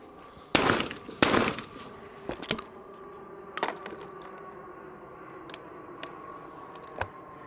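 Shotgun shots at sporting clay targets on an outdoor course, a pair of loud sharp blasts close together followed by fainter distant reports and clicks from other shooters.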